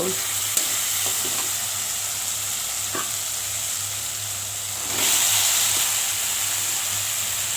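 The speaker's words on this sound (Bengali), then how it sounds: "সবজিটা দিয়ে দিলাম, এখন আমি ভালোভাবে নাড়াচাড়া করব" Vegetables stirred in hot spiced oil for a katla fish curry: a steady close sizzle of frying with a few scrapes and clicks, swelling louder partway through, with no talk.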